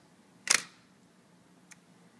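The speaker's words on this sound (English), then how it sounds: "when you click down, it opens the shutter, and then bulb release" A camera shutter on bulb exposure: one sharp mechanical clack as it opens, followed about a second later by a softer, shorter click as it closes, close and clear in a quiet room.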